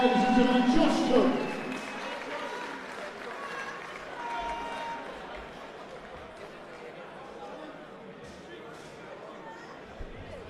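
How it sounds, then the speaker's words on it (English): Indoor arena crowd at an international boxing event in County Durham applauding and cheering for boxer Josh Cook, loudest at the start then fading into a lingering murmur of crowd chatter. "Give him a big round of applause right now, ladies and gentlemen, Josh Cook."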